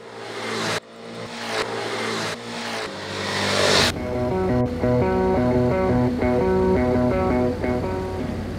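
Honda Forza 300 mid-size premium scooter engine heard accelerating, with a rising revving tone over the first few seconds, then a steady drone as music plays over it.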